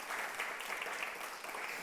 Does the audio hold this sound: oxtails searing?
no